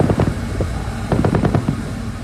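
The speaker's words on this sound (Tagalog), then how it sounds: "umalingaw rin sa malawak na West Philippine Sea ang sunod-sunod na putok ng heavy machine guns" Heavy machine guns fire from a ship during a naval gunnery exercise on the West Philippine Sea, in quick successive bursts of sharp cracks with rushing wind noise behind them.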